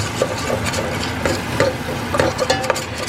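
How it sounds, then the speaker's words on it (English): A spoon scrapes rhythmically around a pan as cheese sauce for macaroni and cheese is stirred over a burner, with repeated soft strokes under a low, steady hum. "you just stir that sucker up till it's all mixed in"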